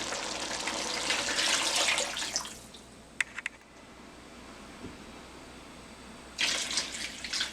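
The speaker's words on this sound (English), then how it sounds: "So now I'm going to add water." Water runs from a tap into a cooking pot for kidney beans with smoked pork, a steady rushing stream that stops, leaves a few clinks and a quiet pause, then starts again near the end.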